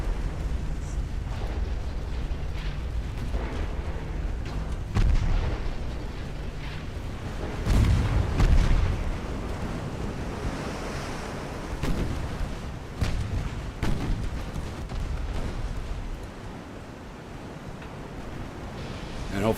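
Heavy naval artillery booming in Ultimate Admiral: Dreadnoughts as warships fire high-explosive shells, deep rumbling blasts spread out over a constant sea-and-wind wash, with a few sharper shots standing out.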